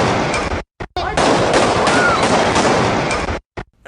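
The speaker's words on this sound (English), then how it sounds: "This was the first firing shot on the audio that was captured." A single loud gunshot from a firearm in a recorded shooting, a sharp blast with dense broadband noise trailing off over a few seconds, set apart by brief dropouts of silence.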